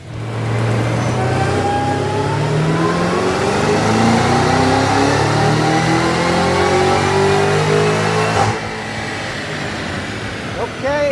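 A Cadillac CT5-V Blackwing on a dyno, revving hard through a long pull as the loud engine note climbs steadily in pitch before cutting off sharply, then a lower settling hum, with a voice speaking briefly over it.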